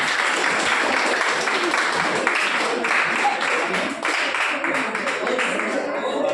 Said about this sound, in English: A big round of applause, sir